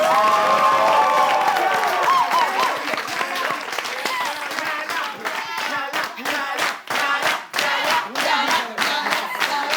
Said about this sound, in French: un tonnerre d'applaudissements pour le groupe Miap Koya, s'il vous plaît